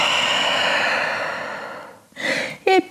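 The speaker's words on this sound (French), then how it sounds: "Une grande respiration." A deep breath taken during a yoga session, heard as a long breathy exhale that fades out, followed by a short inhale and a brief voiced sound.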